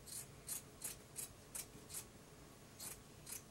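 Scissors snip through linen slipcover fabric, trimming away bulk in about nine short, evenly spaced crisp cuts, close and fairly quiet with no talking.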